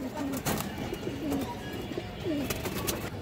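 Pigeons coo nearby in short, soft rolling calls repeated several times, with faint rustling and clicks in the background.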